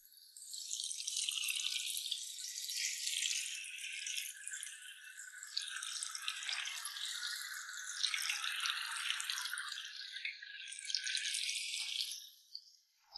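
Sabudana vada frying in hot oil, a steady, dense crackle and sizzle of bubbling oil that continues evenly throughout, close and fairly loud, fading briefly at the end.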